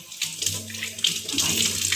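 Tap water runs and splashes during washing for a homemade herbal shampoo, giving a brief, close and fairly loud rush of water that swells toward the end.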